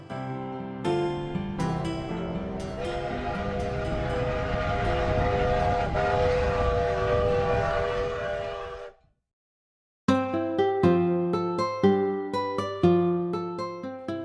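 Steam locomotive working on the Cumbres & Toltec Scenic Railroad in Chama, New Mexico: a long, loud, sustained whistle blast with a rumbling train underneath, breaking off into a brief silence before a tuneful backing resumes.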